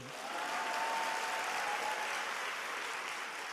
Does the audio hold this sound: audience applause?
yes